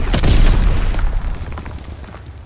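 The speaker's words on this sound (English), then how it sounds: "Sending mortar rounds." A mortar round explodes in Call of Duty WWII, one loud close boom that rumbles deep and then decays over about two seconds.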